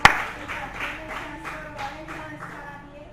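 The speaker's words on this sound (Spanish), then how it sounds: "Vamos a brindarle un fuerte aplauso a nuestro Dios." Church congregation clapping together during a Spanish-language worship service, a rhythmic pulse of hand claps falling into a steady beat, moderately loud and roomy, with a ringing tone underneath and no speech over it.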